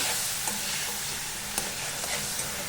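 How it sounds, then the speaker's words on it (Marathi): Tomato puree fries in hot oil in a pan for a paneer masala curry, giving a steady close broadband sizzle with a few soft stirring clicks and no talk. "आता टोमॅटोची प्युरी ती छान फ्राय करून घ्यायची मस्त"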